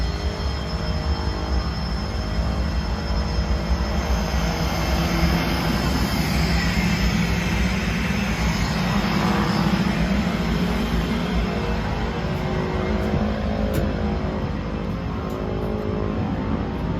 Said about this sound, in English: Looks like our jet's just coming back.